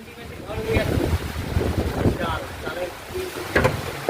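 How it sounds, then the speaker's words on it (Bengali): Strong wind of a Kalbaishakhi storm buffets the microphone in loud, rumbling gusts, with voices calling out faintly amid the roar. "কাল বৈশাখী ঝড় হচ্ছে গাইস, দেখো।"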